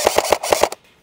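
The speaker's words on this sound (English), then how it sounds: "every time we pull the trigger and release the trigger, it will fire" An airsoft rifle on a binary trigger fires six sharp, close shots in under a second, one on each trigger pull and release, in quick regular pairs before stopping abruptly with no talk.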